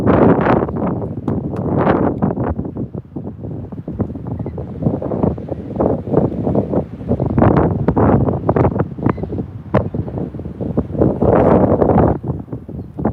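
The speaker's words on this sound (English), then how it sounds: "It's very windy." Strong gusty wind buffets the microphone continuously near a seaside boardwalk, a loud rumbling roar with constant flutter and no clear voices.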